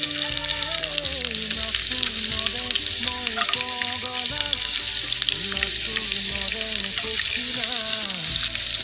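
Garlic fries in smoking-hot mustard oil with a loud, dense, continuous crackling sizzle that stays close and steady from start to finish.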